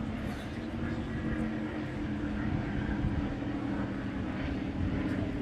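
A Supercat race boat engine fitted with tractor pipes during qualifying on the water at Michigan City, a steady, loud, continuous low roar that stays even throughout.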